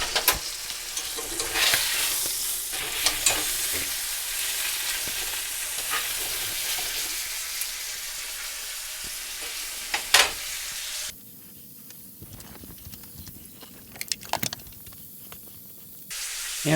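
Sous vide London broil sears in a hot pan after being flipped, a steady loud sizzle and hiss with occasional spits and pops; the sizzle drops sharply partway through, leaving a quieter crackle before rising again.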